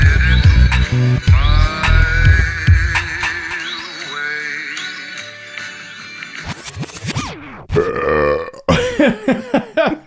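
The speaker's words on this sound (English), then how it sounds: "I'm at my one beer, and I just burped." A loud, drawn-out burp after drinking one beer, rough and throaty, with a few shorter eruptions and mouth noises following near the microphone.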